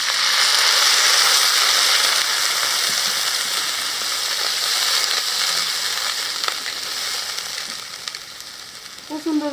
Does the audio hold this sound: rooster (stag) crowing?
no